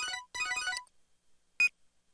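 A phone rings in the Devil Survivor 2: Record Breaker video game, two bright electronic chiming bursts followed by a short single beep after a pause.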